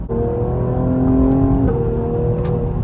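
A Cadillac CT5-V engine pulls hard under acceleration with a steady rising drone. It dips briefly at a crisp gear shift, then climbs again, close and loud.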